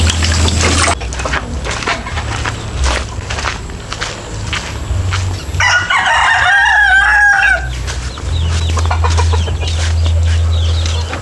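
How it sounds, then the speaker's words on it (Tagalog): Chickens cluck and chatter close by over a steady low hum, and a rooster crows loudly midway through, with shuffling steps now and then. "ito po yung mga manok ni Francis dito"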